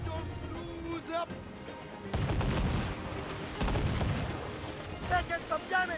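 Ship cannon fire in Assassin's Creed Freedom Cry, heavy booming blasts rolling in over several seconds under shouted voices, some loud and close, others duller.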